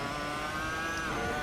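A Williams FW26 or Ferrari SF71H Formula One engine in a racing video game screams at high revs, a steady sustained whine with no talk.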